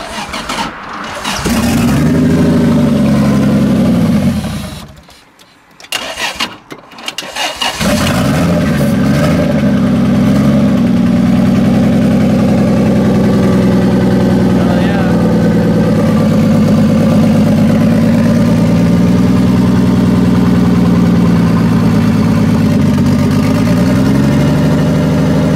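A Toyota 1JZ engine swapped into a Nissan 240SX cranks briefly, cuts out and catches on a restart, then settles into a loud, steady, close-up idle with slight fluctuations.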